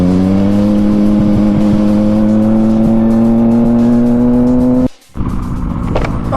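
A Yamaha MT-09 (FZ-09) motorcycle with open headers idles and revs loudly close by, its steady engine note climbing before a brief cutout and a rough restart.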